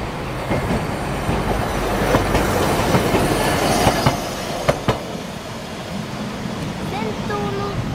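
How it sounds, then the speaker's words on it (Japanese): A blue Kumamoto City streetcar approaches along a city street, giving a steady, loud rumble of rolling wheels and rail noise with a few sharp clicks and thin squealing tones as it nears. "後ろからはなんか青い路面電車が来ています。"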